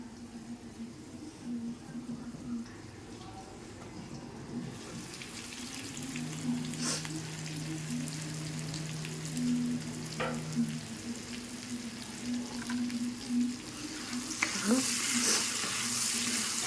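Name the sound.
jackfruit curry masala frying in a covered pan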